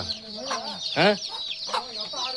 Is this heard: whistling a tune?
no